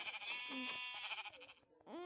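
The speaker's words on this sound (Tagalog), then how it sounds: "Tupa." A sheep bleats several times in close succession, with loud, wavering, nasal calls heard clearly near the microphone.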